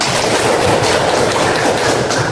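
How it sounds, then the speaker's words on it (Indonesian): Dense, continuous applause from a crowd of hands clapping fills the clip, steady and fairly loud with no voices. "Tepuk tangan dulu."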